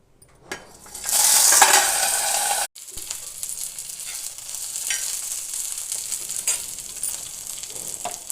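Onion and green chilli hit hot oil in an iron pan with a loud burst of sizzling, then a softer steady frying hiss with light scrapes and stirring clinks, no talking.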